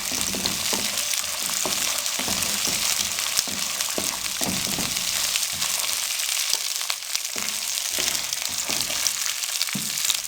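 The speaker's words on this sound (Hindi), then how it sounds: "अब इसमें हम मटर डाल देंगे। बिस्मिल्लाहिर्रहमानिर्रहीम। अब इनको हम अच्छा सा फ्राई करेंगे।" Peas frying with lightly browned onions in a pan for soup noodles, giving a steady, dense sizzle with intermittent stirring clatters and scrapes throughout, close and loud, with no talking.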